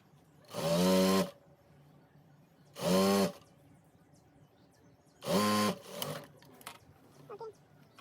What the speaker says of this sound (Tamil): அதை அப்படியே வச்சு தைப்பேன்.